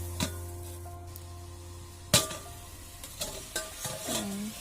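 Stirring a vegetable curry in a pan, with soft scraping and clinks of a spoon, a sharp clatter near the middle and faint sizzling underneath, close by and fairly quiet.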